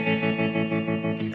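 An electric guitar rings out through Marshall and Colby amps with reverb and a distorted, chorus-tinged tone, a sustained chord held steadily and decaying near the end, played alone without talk.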